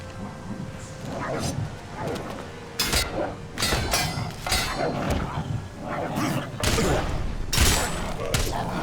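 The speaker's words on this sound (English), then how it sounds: "Oh, something exploded in my face." Explosion in the action role-playing game ELEX, several sharp, loud blasts and bursts of crackling combat noise come in quick succession, close and harsh, mixed with grunts and other game sounds while someone talks over it.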